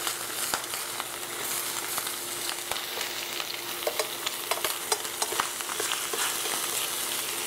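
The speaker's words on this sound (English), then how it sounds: "the bacon, as it hits the hot surface of the pan, it wants to instantly kind of just sort of release itself" Bacon sizzles in a hot pan with steady, close frying noise broken by frequent sharp pops and crackles, and no voices over it.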